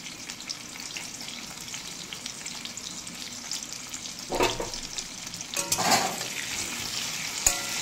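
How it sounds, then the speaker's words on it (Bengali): Potatoes frying with salt in a kadai, a soft steady sizzle close by, broken by a few louder scraping stirs partway through and a sharp tap near the end. "আমি এদিকে কড়াইতে আলু দিয়ে দিলাম। আলুগুলো খুব ভালোভাবে আমি লবণ দিয়ে ভেজে নেব"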